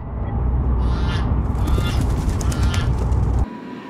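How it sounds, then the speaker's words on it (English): A goose honks by a doorway in a series of nasal calls over a steady low rumble, the honks carrying clearly before the background drops out near the end. "Can you do something about the goose that's guarding the door?"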